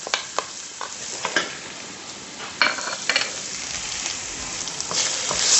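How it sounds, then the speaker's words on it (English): Garlic and ginger hit a hot pan for a minced beef and vegetable stew, giving a close, crackling sizzle broken by sharp clinks and scrapes of stirring. No voices are heard. "Add my garlic and my ginger."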